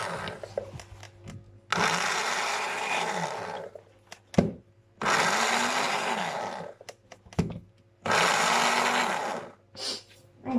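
Kitchen blender whirring through boilie bait ingredients in three loud bursts of a few seconds each, separated by pauses with handling knocks and light clatter.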